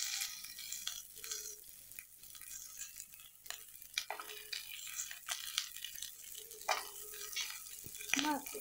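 Onions sauté in a pan, giving a soft, uneven sizzle with scraping strokes from the stirring utensil. A few brief watery sounds come through at low overall loudness, and no one talks.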